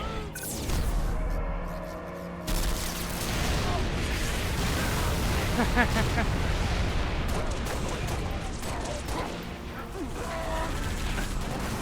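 Artillery barrage striking in the Halo: Reach video game, loud rolling blasts and debris rumble that start abruptly after a brief quieter mechanical opening and continue densely throughout, with speech mixed underneath.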